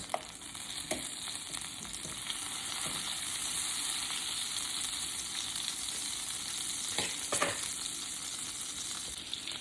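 Butter melts in a hot pan with a constant bright sizzle, broken now and then by faint clicks and taps of a utensil, close and even throughout.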